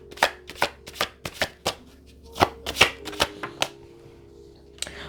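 Tarot cards shuffled by hand, a dozen or so crisp, distinct slaps and riffles at an irregular rhythm, close and clear over a faint low hum, with no speech.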